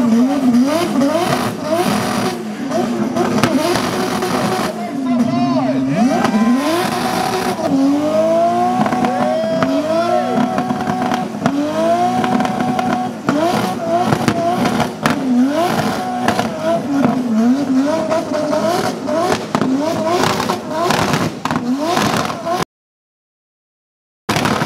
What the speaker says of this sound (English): last event for the day was the Burnout Contest